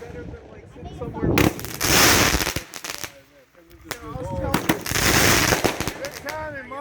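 Fireworks are set off at a Fourth of July show on Smith Island, with loud close bursts of rapid crackling pops in two main volleys, and people talk and shout between them.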